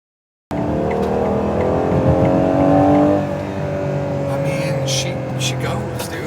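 A Ferrari Purosangue V12 revs loudly and steadily in the foreground, its rising and falling engine tone carrying throughout, with faint voices underneath.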